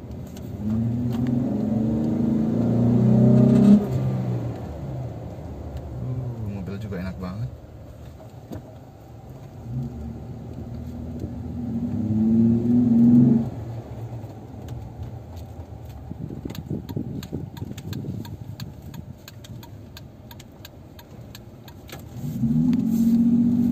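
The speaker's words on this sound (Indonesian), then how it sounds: "Cepet banget ini naiknya, ini gasnya setelah ganti coil." A Jeep Wrangler JK engine revs at a Pioneer Jeep workshop after a coil replacement. Three or four strong rising revs climb quickly and drop back to idle between them, close and loud, with someone talking at times.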